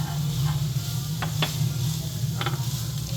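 Spiced chicken samosa filling being stirred in a pan, a constant sizzle over a low hum, with a few sharp scrapes of the spoon, close up and without talk.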